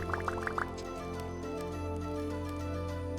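Hot red bricks plunge into water in a video game, giving a few quick bubbling splashes up front, then a faint steady hum of game ambience.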